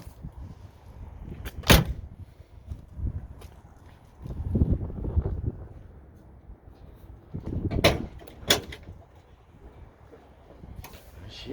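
The hood latch of a restored 1955 Chevrolet Bel Air hardtop is popped and the hood lifted: a few sharp metallic clunks and thumps, spaced apart, nearby in quiet surroundings.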